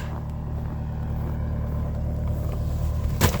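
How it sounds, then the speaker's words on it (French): In winter, a parked car's engine idles steadily while it warms up, a constant low rumble close by for several seconds, with a brief sharp clatter near the end and no talking. "La voiture est en route parce que c'est l'hiver."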